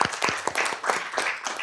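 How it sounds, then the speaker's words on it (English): Short burst of audience clapping at a city council meeting in Carson, California, steady and fairly close, with a few individual claps standing out. "let's give her a round of applause also"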